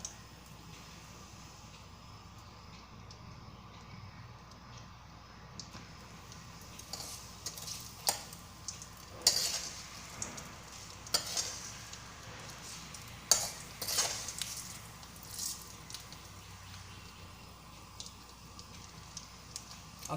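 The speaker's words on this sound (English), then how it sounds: "Let the mustard splutter." Mustard seeds splutter in hot oil in a frying pan while cooking rava idli, with scattered sharp pops and crackles rising over a low sizzle, close up and alone.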